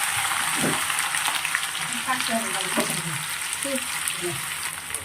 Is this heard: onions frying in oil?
yes